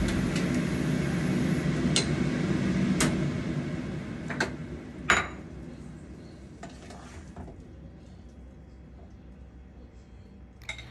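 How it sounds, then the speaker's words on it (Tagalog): A spoon stirs iced tea in a glass, producing a steady swirling rasp with sharp metallic clinks of utensils against the container, fading to a quieter scrape and a final faint tap. "ngayon naman nagtitimpla ako ng iced tea mga langga"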